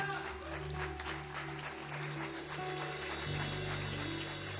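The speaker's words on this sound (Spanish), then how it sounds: "denle un aplauso al Señor." A church congregation claps in a steady, moderately loud burst while sustained keyboard chords hum underneath.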